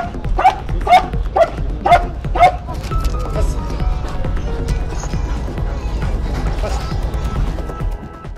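Police dogs bark loudly in a rapid run of five close barks, then people talk over lighter background activity.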